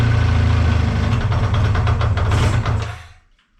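A Kawasaki motorcycle engine, freshly started after its carburetors were cleaned, runs at a steady idle with a low throbbing rumble for nearly three seconds, then cuts out into near silence.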